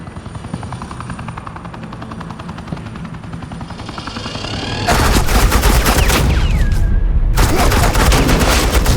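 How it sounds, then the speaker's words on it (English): Loud bursts of automatic suppressing gunfire from the video game Batman: The Enemy Within, with a helicopter-like roar underneath. The bursts start halfway through and keep hammering without a break. "suppressing fire."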